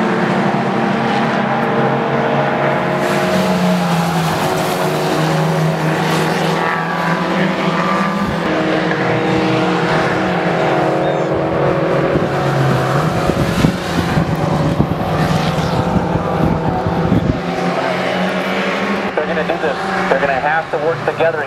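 A Kia Rio race car laps the track at Mosman, its engine a loud, continuous, strained drone that rises and falls with gear changes, with other race cars' engines mixed into the roar throughout.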